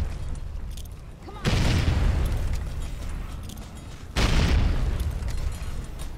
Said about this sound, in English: maybe some grenade spam is the way to go